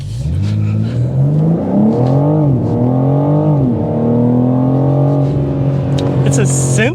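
A 2024 BMW M4 Competition accelerates hard from 0 to 60, its engine note climbing through rising, sweeping revs with shifts, loud and close throughout, with voice-like tonal layers mixed in.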